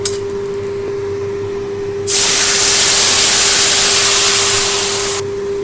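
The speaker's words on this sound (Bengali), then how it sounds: "ঝোলটা আমি এর মধ্যে ঢেলে দেবো।" Broth poured into a hot pan of fried lentil dumplings (bori) seasoned with ginger paste, nigella seeds and green chilli, bursting into a loud, steady hissing sizzle for about three seconds over a faint background hum, then cutting off abruptly.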